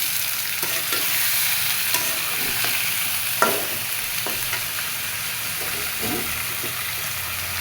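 Chicken pieces fry with onions, salt and turmeric in a steady, close sizzle, punctuated by irregular scrapes and knocks of a utensil stirring the pan.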